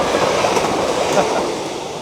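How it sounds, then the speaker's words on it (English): A train rushes past with a broad, steady roar and faint rail clatter, loud and close. "hello, hi fast train"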